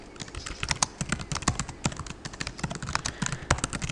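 Quick, steady keystrokes on a computer keyboard as a screen tip is typed into a form, a soft, continuous run of close clicks with no voices.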